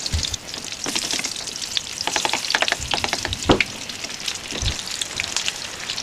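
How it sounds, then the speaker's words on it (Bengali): Batter-coated stuffed chillies fry two at a time in hot oil, giving a dense, continuous crackling sizzle with sharp pops, close and loud with no talking. "তো আমি একসঙ্গে দুটো দুটো করে ভাজছি বন্ধুরা"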